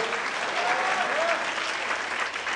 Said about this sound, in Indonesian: Berikan tepuk tangan yang lebih banyak bagi Allah